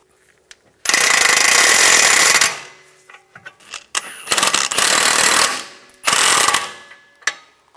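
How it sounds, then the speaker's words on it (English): Power tool tightening nuts and bolts on a Cadillac SRX rear suspension, three loud bursts of rattling impact, the first long, the second shorter and choppy, the third brief, with small mechanical clicks between. "Now we can tighten both of those nuts and bolts."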